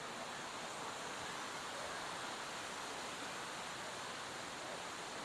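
An outdoor waterfall beside water that must be crossed gives a constant, even rushing hiss with no breaks, steady and moderately loud throughout, no voices.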